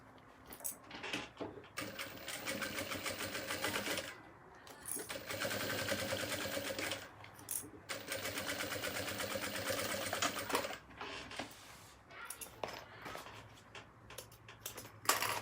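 Close by, a sewing machine stitches together the pieces of a fabric organizer case with elastic bands, running in several rapid, buzzing bursts of a few seconds each separated by short pauses, with light handling clicks between runs.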